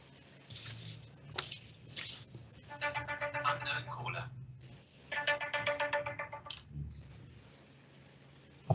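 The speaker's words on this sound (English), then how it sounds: "Unknown caller. I thought I muted my phone." A mobile phone ringtone from an unknown caller goes off during an online community meeting, two bursts of bright repeating electronic tones with clicks and brief sounds around them.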